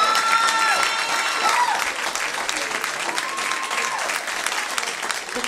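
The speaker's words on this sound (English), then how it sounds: "Put your hands together and give a warm Beracah welcome to our friend." A church audience at a Baptist anniversary concert breaks into sustained applause, dense and steady clapping that fills the room, slowly easing off, with a few voices calling out underneath.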